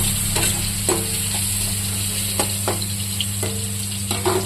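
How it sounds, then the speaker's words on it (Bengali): Spices fry with salt in a pan, a steady close sizzle over a low hum, broken by several sharp scrapes and knocks of a spatula stirring at irregular intervals, with no voices. "এটাকে একটু ভেজে নেব"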